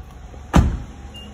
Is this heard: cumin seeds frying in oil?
no